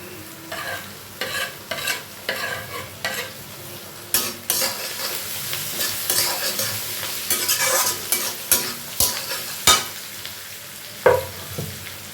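Garlic and ginger sizzle in a pan for Kerala-style fish curry while a utensil scrapes and stirs in a regular rhythm, close and fairly loud.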